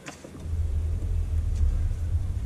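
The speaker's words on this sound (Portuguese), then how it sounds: "Partida por botão, aqui." Audi Q3 Black Edition engine starting by push-button and settling into a steady low idle rumble, close and continuous with no talk.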